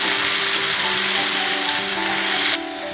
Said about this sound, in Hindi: टमाटर सॉफ्ट होने तक फ्राई करेंगे